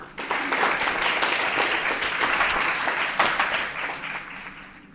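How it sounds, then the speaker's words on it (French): A high-school eloquence contest audience gives its last two candidates a sustained, dense round of applause from a packed room, steady and loud throughout with no voices rising above it. "un tonnerre d'applaudissements pour nos 2 derniers candidats"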